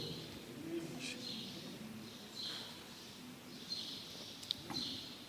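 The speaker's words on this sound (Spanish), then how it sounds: "Mira, los pajaritos están alegres." Small birds chirp and coo in a scatter of brief, fairly faint calls heard indoors behind a quiet room tone, with no one talking.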